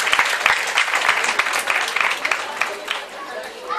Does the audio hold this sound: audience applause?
yes